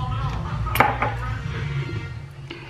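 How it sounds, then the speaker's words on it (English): A utensil clinks against a dish while sugar-free strawberry syrup is stirred in a kitchen, with a few light metallic taps over a low background hum and a voice speaking faintly. "So I'm gonna just kinda stir this up a little bit."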